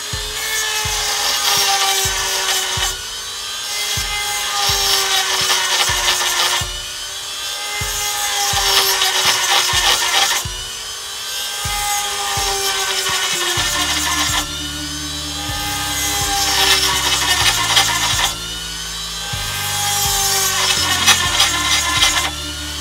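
A Dremel rotary tool grinds a Sheepdog Knives Echo knife, its loud whine rising and falling in repeated passes separated by short pauses.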